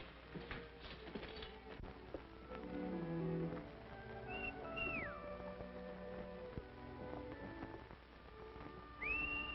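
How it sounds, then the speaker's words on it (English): Faint rising whistles ring out twice, once mid-clip and again near the end, over a quiet background with a low murmur and soft meow-like sounds. "I could have sworn I recognized that whistle."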